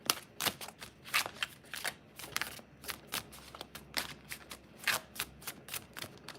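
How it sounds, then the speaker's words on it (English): Tarot cards are shuffled by hand in quick, uneven bursts of crisp riffling and slapping, close and fairly quiet, with no one talking. "We're going to go ahead and shuffle."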